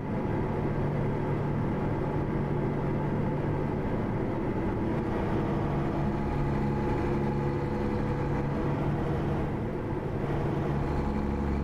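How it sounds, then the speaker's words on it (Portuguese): A truck engine in the American Truck Simulator video game rumbles steadily and loudly at a low pitch, holding a continuous idle-like drone throughout with no talk over it. "E este barulho, malta, este barulho deste motor, espetáculo."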